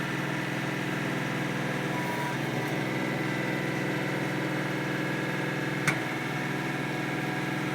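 KIOTI NX6010 HST cab tractor engine running with PTO power engaged, a steady mid-pitched drone with constant vibration throughout and one brief click near the end, no talk.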